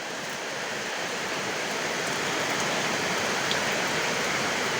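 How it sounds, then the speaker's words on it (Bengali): Heavy rain pours steadily before dawn at 4:30, a dense, unbroken hiss that holds at the same loud level throughout, with no voices. "দেখো কি বৃষ্টি"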